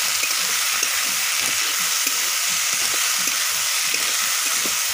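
Chopped, parboiled gular fig fruit fries in a pan for a sabzi, with a constant bright hiss and soft rhythmic stirring taps running throughout.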